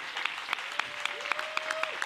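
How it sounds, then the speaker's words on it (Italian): An audience claps at a film festival closing and awards ceremony, a dense, steady applause with sharper individual claps standing out, while a voice talks over it. "E io farei questo applauso a Maleducata!"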